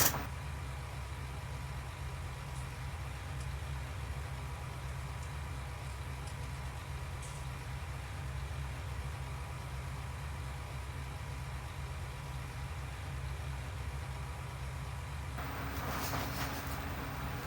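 A tractor idles in the middle of a field with a steady, faint low engine drone running throughout, joined near the end by a brief clattering burst.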